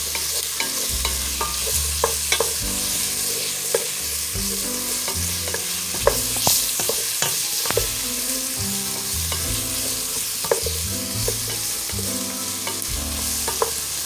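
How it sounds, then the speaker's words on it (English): Cabbage soup vegetables with minced garlic and oregano sauté in a pot, a steady sizzle broken by repeated scraping, clattering strokes of a stirring utensil, close and without speech. "Let that saute for a couple more minutes."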